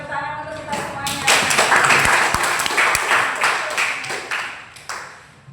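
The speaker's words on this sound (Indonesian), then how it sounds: "tepuk tangan untuk kita semuanya" A classroom of students claps hands together at the end of a lesson, a burst of mixed clapping and taps rising then fading over a few seconds, with some voices underneath.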